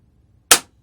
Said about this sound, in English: you'll hear the nozzle shoot here in a second